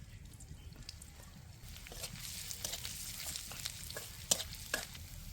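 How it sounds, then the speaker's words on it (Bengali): Chopped ginger and garlic fry in a little oil for village-style fried rice, with a soft sizzle that grows after a moment, mixed with quiet stirring scrapes and one or two sharp clicks. "সামান্য তেল, আদা রসুন কুচানো"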